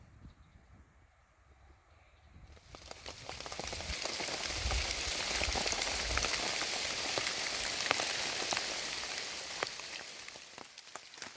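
Rain falls at Allegany State Park, a dense steady patter on surfaces that swells from quiet to a fuller hiss after a couple of seconds, with scattered sharper drops and no talking.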